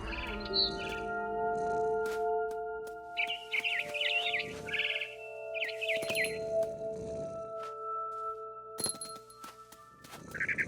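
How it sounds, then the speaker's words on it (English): A barn swallow chirps in the video game What Remains of Edith Finch, in short bright bursts of tweets repeated several times over steady, sustained musical tones. "It was a barn swallow going back to her nest."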